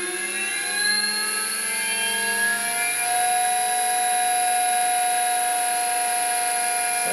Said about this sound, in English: Initially, we'll just do some testing with the motor unloaded.